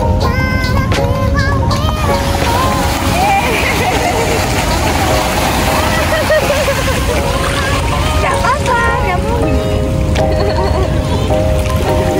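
Sea waves sloshing and splashing around a boat near Pulau Merak Kecil, a steady loud wash of water against the hull under the engine's rumble, with people talking throughout.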